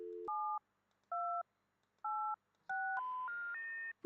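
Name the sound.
telephone keypad dialing in the video game Thimbleweed Park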